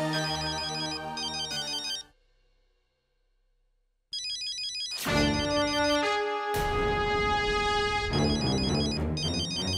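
Phone ringtone playing a bright electronic melody, loud and close, in two bursts separated by a two-second gap, with no talking over it.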